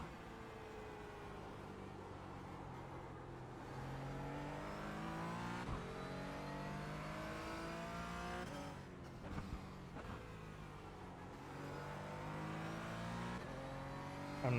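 A GT4 race car engine in iRacing drones steadily and loudly throughout, its pitch rising through the revs with brief dips at gear changes and no talk over it.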